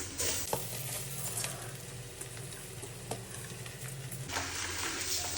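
Polao rice frying in ghee with bay leaves and spices while being stirred in a pan for beef biryani, giving a steady, quiet sizzle with occasional scraping strokes.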